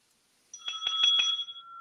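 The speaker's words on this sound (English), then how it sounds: "he's got the ringside bell." A ringside boxing bell used as a contestant's buzzer on a trivia game show clangs in a quick run of about four close, loud strikes, its ringing tone lingering briefly after the last hit.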